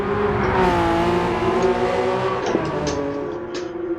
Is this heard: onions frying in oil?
no